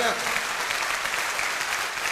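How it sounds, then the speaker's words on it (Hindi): A crowd at a seminar claps continuously, dense and steady applause filling the room, with voices faintly mixed underneath. "मैं एक बार तालियां चाहूंगा मेरे दोस्त मिस्टर रविंदर जी के लिए, एक बार दिल से तालियां"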